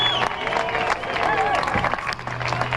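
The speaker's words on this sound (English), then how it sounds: "A big round of applause for Todd Kelly." Crowd at a Canberra V8 Supercars trophy presentation applauding and cheering for second-place driver Todd Kelly, steady dense clapping with a few whistles throughout.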